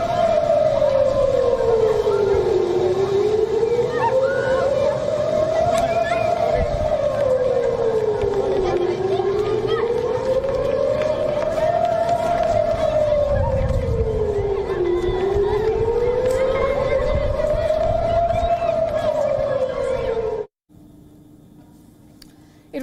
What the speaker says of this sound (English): Their residents were herded indoors by air raid sirens.